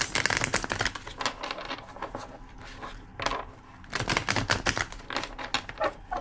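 Cards are shuffled repeatedly up close, rapid clattering riffles in several bursts separated by short pauses.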